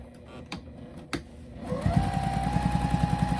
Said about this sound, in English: And just quilting straight along that seam.